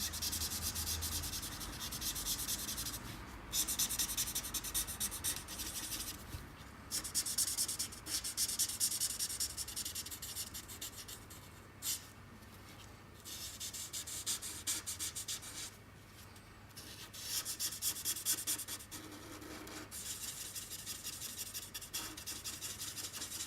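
Coloured pencil strokes scratching across paper while shading brown hair and a beard on a cartoon-style baby portrait of Messi, a steady close rasping rub that comes in bursts with brief pauses, no voices.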